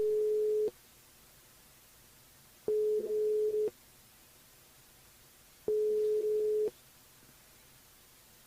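A telephone ringback tone sounds while a radio host calls a listener, three evenly spaced steady beeps of about a second each with silent gaps between, clear and alone.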